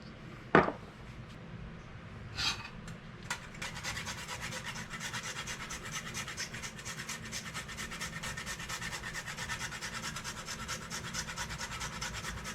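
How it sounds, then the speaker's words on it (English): Whole nutmeg grated by hand, a soft, steady rasping scrape of rapid repeated strokes heard up close and alone, after a couple of brief knocks at the start. "I have whole nutmeg here. We're going to go ahead and grind one up for about a quarter of a teaspoon."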